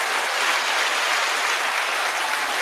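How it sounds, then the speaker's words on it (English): A live podcast audience applauds a newly introduced movie reviewer, producing steady, dense clapping that stays even and full throughout with no voices on top. "Give him a big round of applause, everybody"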